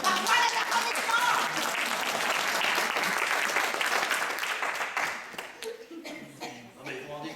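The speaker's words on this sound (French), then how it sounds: "Parfois les applaudissements." A theatre audience bursts into sustained applause at a stage comedy performance, dense clapping holding steady for several seconds before thinning into scattered claps with a few voices and chuckles near the end.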